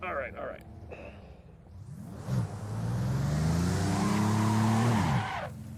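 A Buick Grand National GNX spins its tires, the engine revving up into a long, loud, rising tire squeal that holds for several seconds before cutting off. Brief voices come first.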